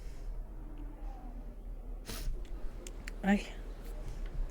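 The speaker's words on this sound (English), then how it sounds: "Sorry if you can hear me sniffle." A couple of short nasal sniffs from a person with a slight cold stand out against quiet room noise, with a faint rustle between them.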